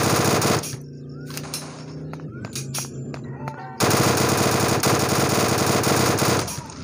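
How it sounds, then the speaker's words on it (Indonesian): Video game gunfire in Free Fire, long sustained bursts of rapid automatic shots with a brief lull between them, loud and close amid game effects. "Kita tembak. Wah, kita tembak."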